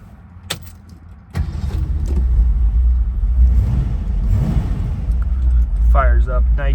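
A 1968 Ford Mustang Fastback's 289-2V V8 cranks briefly and catches near 1.4 seconds, then settles into a steady, close low idle rumble, with keys jangling at the start and a chime near the end.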